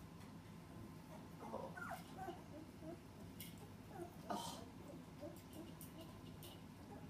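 Two-week-old puppies whimper and yip softly in a litter, with brief high whines scattered over a steady low background hum; a faint voice is present.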